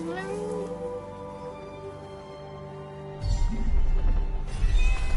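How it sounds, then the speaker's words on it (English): A cat meows in the Forspoken video game, a drawn-out tonal meow followed by a louder burst of game noise with a crash-like rumble. "A cat."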